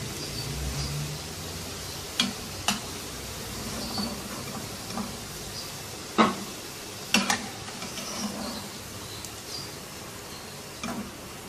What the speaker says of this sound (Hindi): ऐसे ही तमाम नगेट्स को फ्राई कर लेंगे